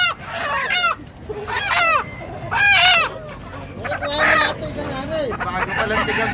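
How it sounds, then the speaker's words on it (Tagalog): Native chickens offered for sale cluck and squawk in repeated bursts, fairly close, with several birds calling over a busy market background and some faint talk. "ayan pa po ang inibentang mga manok na native"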